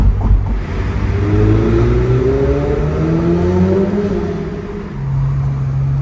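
A car cruising along a Dubai road, a steady engine hum with gradual rising tones as it shifts through gears, accompanied by road and tyre rumble throughout, without any talking.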